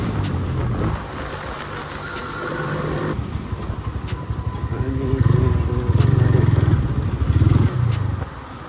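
A modified motorcycle engine rumbles and revs unevenly while riding on a road in western Nepal, growing louder and throatier midway with deep pulsing bursts, mixed with road and traffic noise.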